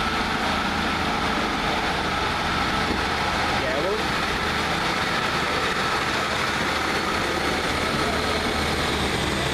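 Arriva Trains Wales class 152 diesel multiple unit departing Crewe station on a shuttle to Chester, a steady loud engine rumble and drone filling the platform, continuous throughout with a speaking voice over it.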